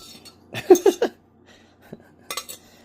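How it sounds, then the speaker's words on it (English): A utensil scraping cooked bucatini pasta out of a metal cooking pot: a quick cluster of close metallic scrapes and clinks, a pause, then two more short scrapes. "And yes, I'm scraping up the pot."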